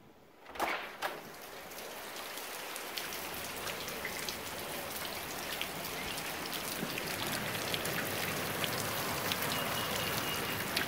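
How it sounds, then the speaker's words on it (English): Steady rain falling outdoors on a weekend at home, a dense continuous patter of drops that holds at an even level from start to finish, with a brief knock near the start. "It's raining."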